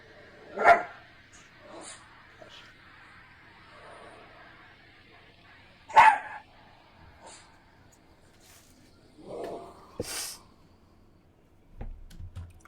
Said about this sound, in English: the dog started barking unusually at something in the room